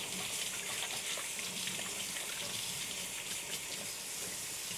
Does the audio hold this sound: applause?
no